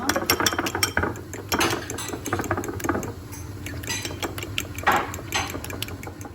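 Eggs are whisked for an omelette, a rapid run of close metallic clicks and scrapes of a utensil against a bowl that continues without talk.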